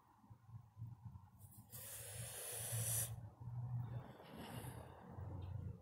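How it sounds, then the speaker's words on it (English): Deep lung inhale drawn through a Camel Crush cigarette, a breathy airy hiss lasting about a second near the middle, close and quiet over low background hum. "let's take a deep lung inhale"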